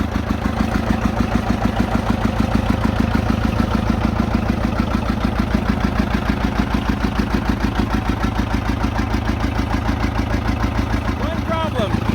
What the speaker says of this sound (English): it's just kind of nice to hear the big engine running.